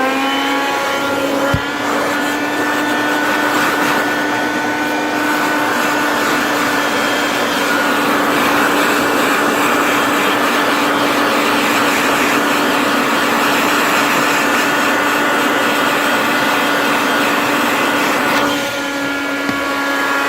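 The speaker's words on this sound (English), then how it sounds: "I'm using the vacuum right now" A vacuum cleaner works over a car's interior, giving a loud, steady motor whine with a constant droning tone that runs nearly the whole time, briefly dipping near the start and end.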